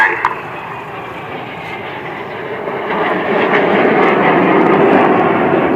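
A Red Arrows display jet at the Sunderland Airshow roars past, a loud broad jet rumble that swells steadily and stays strong to the end, with a commentator talking over it.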